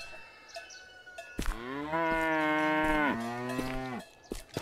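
A cow moos in the video game Ludus Simulator, one long, loud, drawn-out bellow that shifts pitch midway, standing alone over quiet game ambience with faint clicks before and after.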